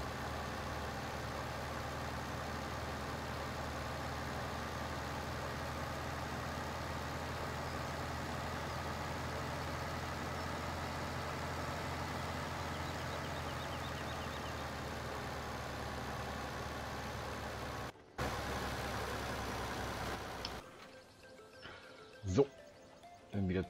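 Forklift engine idling steadily at a low rumble in Farming Simulator 17, a constant drone that drops out near the end, leaving faint scattered noises.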